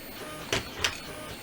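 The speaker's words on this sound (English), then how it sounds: "The printer you can hear in the background is just" A 3D printer reprints side pieces for a 3D-printed Enigma machine, humming steadily in the background with two brief, louder mechanical whirs a moment apart.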